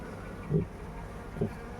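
Bees buzzing near a large rubber-tree hive, two brief louder passes of buzzing over a soft steady hum, close and faint overall.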